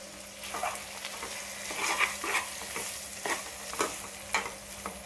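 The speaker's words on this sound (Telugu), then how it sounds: "ముక్కలు కూడా వేగేసి ఈ గ్రేవీ ఇందులో కలుపుకుందాం." Ivy gourd pieces fry and sizzle in a pan while a masala gravy paste is stirred in, steady close sizzling hiss with repeated scraping strokes of a spatula throughout.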